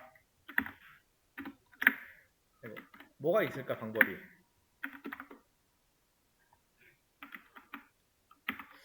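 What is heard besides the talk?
typing on a computer keyboard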